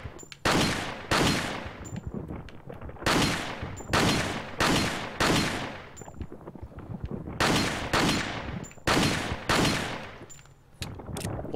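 Video game gunfire rings out in loud, repeated bursts, each blast trailing off in a long echoing decay, with about a dozen shots spread steadily across the stretch.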